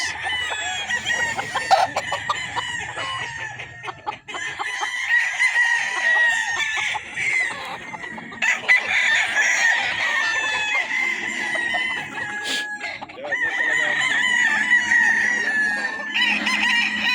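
Several Kelso gamefowl roosters crow in overlapping calls amid steady clucking, close and loud, with repeated crows spread across the stretch and no talk.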